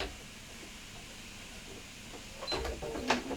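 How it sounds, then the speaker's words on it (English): A sewing machine running a quick top stitch on a boot bag: a quiet hiss of room tone, then short mechanical whirring bursts near the end. "So we just put in a quick top stitch"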